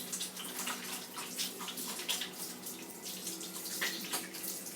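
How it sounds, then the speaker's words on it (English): Tap water runs steadily into a sink while hands are washed under the stream, a soft continuous splashing with small irregular bursts throughout. "I'm going to wash my hands real quick since I touched my eggs."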